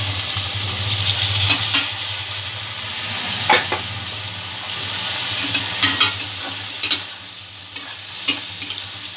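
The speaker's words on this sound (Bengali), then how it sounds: "ছোলাটা এর সঙ্গে যোগ করে দেব।" Chickpeas hit a pan of fried onion and ginger for chole, giving a loud continuous sizzle with scattered clinks and scrapes of stirring, close and without speech.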